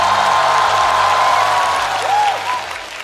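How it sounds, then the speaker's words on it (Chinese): A live stand-up comedy crowd applauds three comedians after a manzai-style double act, loud dense clapping with a few whoops that holds steady and then begins to thin out near the end. "掌声再次送给三位"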